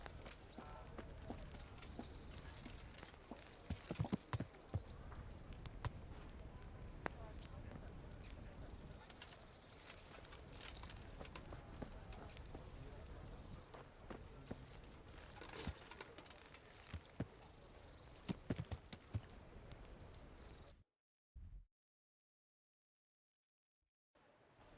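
Horse hooves clip-clop steadily on the ground in the medieval game Kingdom Come: Deliverance, with birdsong and outdoor ambience, and the sound cuts off abruptly near the end.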